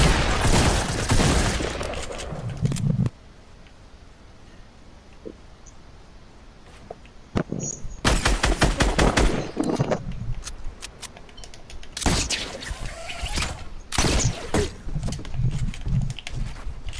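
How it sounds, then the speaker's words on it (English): Hunting rifle shots in a video game come in loud clustered volleys, with a quiet gap in the middle before more sharp bursts of fire resume. "I'm using the hunting rifle now."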